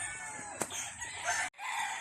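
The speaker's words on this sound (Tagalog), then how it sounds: "Yun ang aking mga babae. Mga babae kong manok." Hens and roosters at a gamefowl farm: close clucking, a sharp squawk, and a rooster crowing partway through, with other birds calling behind it.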